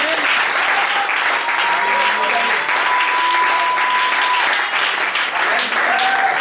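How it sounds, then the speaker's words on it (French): A church congregation applauding to acclaim the Lord: loud, sustained clapping from many hands filling the room without a break, with a faint voice or tone sounding over it. "Quelqu'un peut acclamer le Seigneur"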